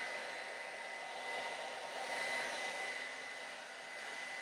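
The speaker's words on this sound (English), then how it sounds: "I'm blow drying it up, back, and a little bit towards the center" A handheld hair dryer blows hair up and back toward the center, giving a steady, faint whooshing hiss with a high whine that swells slightly midway and runs alone without talk.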